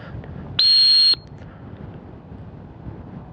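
A single sharp blast from a dog training whistle during a retriever casting drill, about half a second long, loud and close over a low outdoor wind rumble.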